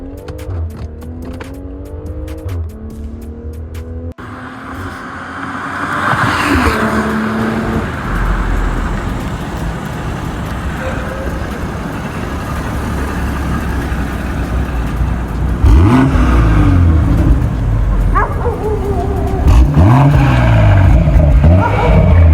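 A 2020 BMW X4 M40i SUV engine revs loudly nearby, with repeated rising and falling throttle blips over a rumbling exhaust, with road noise around it.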